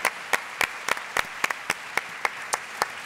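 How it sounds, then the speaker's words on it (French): Sparse, faint applause at a staged debate on whether to still have children: a small group claps slowly with a dozen distinct, evenly spaced smacks over three seconds in a quiet room. "On va applaudir"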